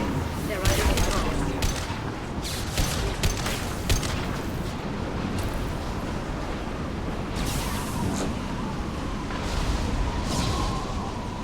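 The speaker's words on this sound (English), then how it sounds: "This is the Matic Heavy Rifle." Matic Heavy Rifle firing in Mass Effect 2, a dense run of loud single shots and bursts over constant battle din and rumble, with a voice talking throughout.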